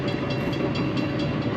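A train rolling along a railroad near a heavy equipment yard, heard as a steady, loud broadband rumble with no distinct breaks or horn, continuous through the short stretch.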